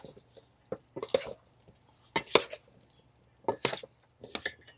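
Pork belly is tossed with Thai chili sauce in a bowl, giving three or four short wet squishing, clattering bursts with quiet gaps between them.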